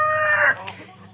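A close Sonali-breed chicken gives a single loud, strained cluck-crow lasting about half a second, followed by faint bird chatter.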